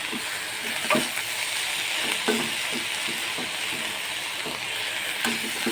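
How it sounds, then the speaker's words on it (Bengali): Shrimp being turned and fried in a pan, a steady bright sizzle with scattered scraping clicks from stirring, close and fairly loud, with no talking. "এই পিঠ ওই পিঠ করে নেড়ে দিতে হবে, নেড়ে একটু ভাজা ভাজা করতে হবে"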